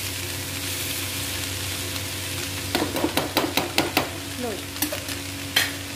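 Shredded cabbage and peas sabzi cooks in a pan on a low gas flame with a steady soft sizzle, broken midway by a run of sharp spoon-stirring scrapes and knocks against the pan.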